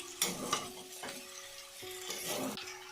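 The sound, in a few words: stirring salt into vegetables in a pan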